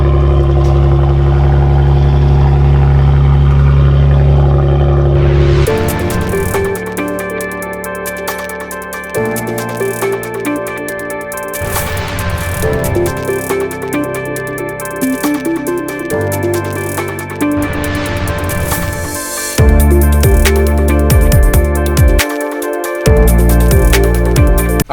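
A Jeep Wrangler's exhaust runs close by, a steady loud engine drone that shifts in tone partway through, with no talking.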